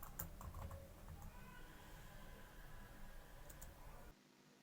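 A login password is typed on a computer keyboard while setting up a virtual server: quick, light key clicks close to the microphone, denser at first, then sparse, before cutting to near silence.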